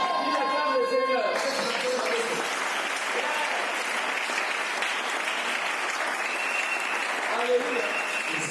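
A church congregation applauds and cheers at a worship service, a dense, steady wash of clapping and crowd noise that holds loud and even throughout, with voices mixed into the din.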